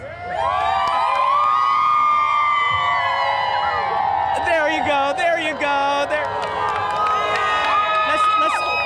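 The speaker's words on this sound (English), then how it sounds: "Can we get a little cheer here, guys?" A large parade crowd cheers loudly and continuously, with whoops, high shouts and whistles rising over dense babble, close and sustained, while someone talks through it.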